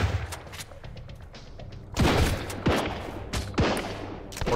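Grenade launcher firing in the video game Sunkenland, a close run of loud booming shots with sharp attacks, about four heavy blasts over rapid background gunfire.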